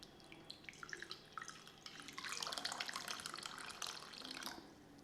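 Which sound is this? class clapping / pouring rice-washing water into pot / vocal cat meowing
pouring rice-washing water into pot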